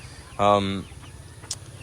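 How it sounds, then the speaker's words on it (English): A silkie chicken, a broody breed, gives one close, drawn-out clucking call that trails off, with a faint short sound shortly after against quiet background noise. "silky chickens, the breed of chicken that I have, they're super broody"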